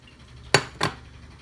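Two sharp metallic clinks of a utensil knocking against a pot of boiling water while stirring penne pasta, close by, with quiet pauses around them.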